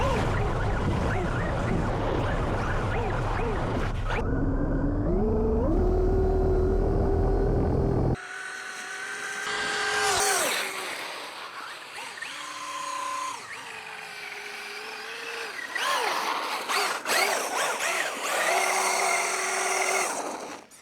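A Traxxas UDR RC truck with a locked rear differential power slides, its motor whining and rising in pitch over rumbling tyre scrub, loud and close throughout, with an abrupt shift partway through.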